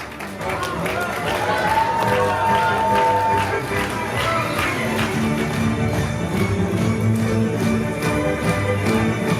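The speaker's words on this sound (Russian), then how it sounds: "Аплодисменты нашим прекрасным невестам." Audience applause and cheering for the brides of a beauty contest, sustained clapping with crowd noise and music carrying on underneath for the whole stretch, loud and close.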